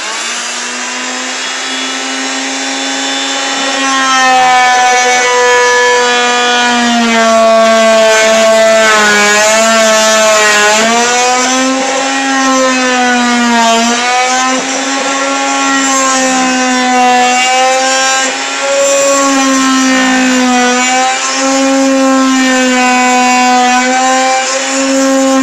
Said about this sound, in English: This blade goes back and forth really fast and allows you to cut stupid stuff like this that a Sawzall won't let you do.